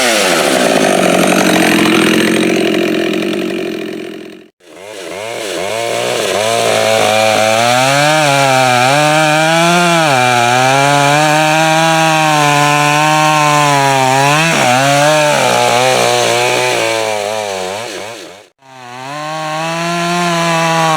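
Husqvarna 572 chainsaw with a popup piston and muffler mod, running loud and close, revving and settling with a couple of brief cutoffs; no voices.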